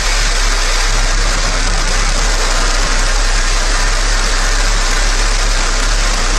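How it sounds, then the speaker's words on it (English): Blue Origin New Shepard rocket engine ignition and liftoff, a loud, steady, broadband roar that fills the whole clip without letup, heard alone with no voices over it. "Command engine start. 2. Here they go. 1. Ignition."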